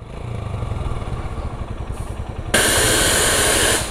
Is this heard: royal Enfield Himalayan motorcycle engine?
yes